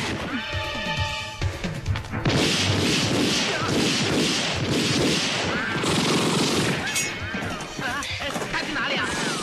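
A shootout in a 1995 Hong Kong comedy film erupts into dense bursts of gunfire and crashing impacts that fill the scene for several seconds, with brief voices and music around the barrage.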